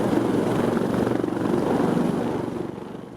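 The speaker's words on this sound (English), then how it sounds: "The Bell AH-1Z Viper, most advanced attack helicopter in the world." A Bell AH-1Z Viper attack helicopter roars steadily close by, its rotor thumping in a fast, even pulse beneath a heavy engine drone, fading slightly toward the end.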